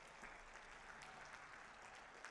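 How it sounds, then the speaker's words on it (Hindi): A large crowd claps loudly and continuously to welcome Prime Minister Modi at a BJP booth-level rally in Varanasi. The dense applause holds steady throughout with no pauses. "तेजी के साथ तालियों की गड़गड़ाहट से माननीय प्रधानमंत्री जी का स्वागत"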